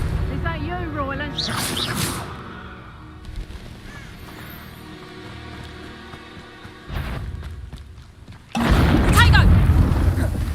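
A Confringo spell in Hogwarts Legacy bursts with a booming whoosh, loud and close, followed by game ambience and another heavy blast near the end.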